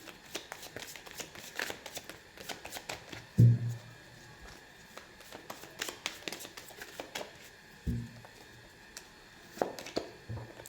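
Tarot cards are handled and shuffled close up, with repeated quick riffling and flicking bursts and a few soft thumps as the deck is tapped, alone without talk.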